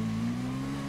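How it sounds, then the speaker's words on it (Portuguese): Steady, loud engine drone of a Kawasaki ZX10R motorcycle accelerating on asphalt in GTA V, a continuous humming tone held evenly throughout with no pause. "aqui essa parte aqui que é asfalto eu tô acelerando"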